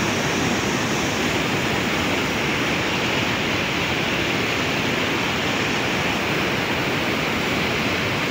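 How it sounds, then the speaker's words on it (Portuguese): Heavy floodwater surges over the Ponte da Amizade bridge and pushes through tangled branches, a loud, steady roar of rushing water that fills the whole stretch with no voices. "Olha a pressão da água nesses galhos."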